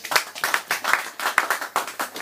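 A church congregation claps in a steady, rhythmic beat at a prophet's service, the sharp claps close and regular for a couple of seconds with no talking.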